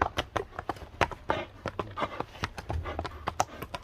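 Hooves of a horse clip-clop in quick, uneven beats as it turns sharply to both sides, the strikes close and crisp with some ground scuffing between them.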